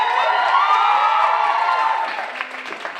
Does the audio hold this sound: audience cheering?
yes